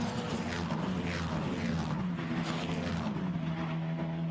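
Formula Renault Eurocup race cars at Magny-Cours accelerate out of a corner, engines rising in repeated revving sweeps through the gears, fairly loud and continuous with no talk.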